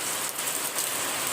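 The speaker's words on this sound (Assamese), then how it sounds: "দেখিছে বৰষুণ" Steady rain falling in Gujarat, a dense, even hiss of drops pattering on surfaces nearby, continuous and moderately loud with no other sounds.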